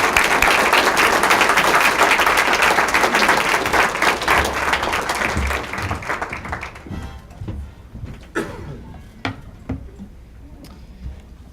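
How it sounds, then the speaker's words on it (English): A large audience applauds loudly and steadily, then the clapping thins out and fades into a few scattered claps and taps. "Let's give them a huge round of applause for their fantastic work."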